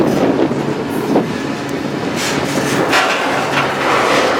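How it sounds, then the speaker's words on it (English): A freight train pulling into McCook, Nebraska, loud rumbling and rattling of rail cars with metallic clanks and a few rhythmic clacks, heard close from on board. "the train and myself, along with it, are pulling into McCook, Nebraska"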